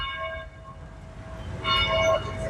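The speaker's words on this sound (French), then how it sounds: "C'était pas les cloches de 19h, ça s'appelle pas genre l'Angélus, un truc comme ça" Church bells ringing the evening Angelus at 7 pm, steady sustained tolling tones heard at a distance, swelling louder toward the end over low background rumble.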